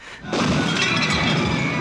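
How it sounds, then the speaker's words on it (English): A motorcycle crashes through a plate glass storefront window during a stunt for the 1978 film Dawn of the Dead: a short quiet lead-in, then a sudden loud, close crash that becomes sustained shattering and tinkling glass, with no talking. "But the motorcycle broke it, the bike went out from under me and I hit the ground."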